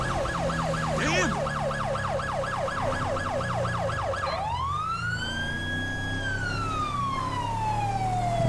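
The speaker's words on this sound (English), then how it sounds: "We're going to cut the siren now." A wailing police siren in GTA 5 rapidly yelps up and down, then switches to a long slow wail that rises and fades, over a steady engine rumble.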